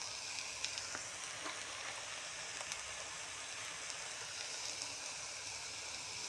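Brinjal fries in a pan with a soft, continuous sizzle and hiss, steady and fairly faint, with a few small crackles scattered through it. No voices.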